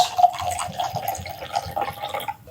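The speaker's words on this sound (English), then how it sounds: "I'll pour a little bit for me, a little bit for you" Elijah Craig toasted rye bourbon whiskey, 94 proof, poured into glasses in a soft, quiet trickle with faint drips, heard alone at close range.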